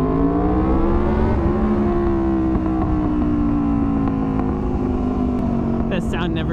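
A V4 motorcycle with an SC Project CRT slip-on exhaust revs hard close by, its exhaust note rising and falling in a sustained throaty roar, with someone speaking faintly in the background.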